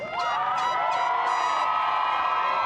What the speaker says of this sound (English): please give our graduates one last round of applause